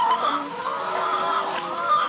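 Hens clucking inside a mobile henhouse built on a truck and trailer at a demonstration farm, a steady mix of soft clucks and chatter close by with no talk over it.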